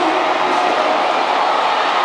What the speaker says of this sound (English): Can you hear this crowd